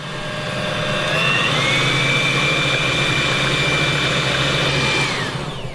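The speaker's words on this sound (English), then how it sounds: "Oh, it's whipping that egg up." A brand new electric whisk whips egg with a steady, loud motor whine that holds an even pitch throughout before easing off at the very end.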